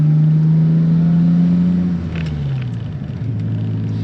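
A 1992 BMW 535i E34 engine rumbles steadily nearby with a raspy, ticking note from an exhaust leak, its pitch dipping slightly as the revs drop.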